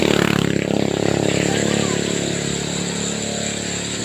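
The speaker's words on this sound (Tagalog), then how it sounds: "Dumaingay po, no? Dumaan yung motor." A motorcycle passes nearby with a loud, rough engine drone that is strongest at the start and then slowly fades as it moves away.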